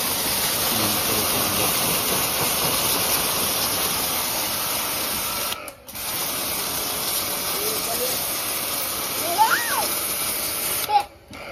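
A steady high-pressure water spray from a pressure washer cleaning a car hisses continuously, broken by a short pause, with faint voices and a few squeaks near the end.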